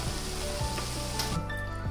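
Gongura leaves for Guntur gongura pachadi cook down in a pan as the last water boils off, giving a short, steady close-up sizzle with faint bubbling.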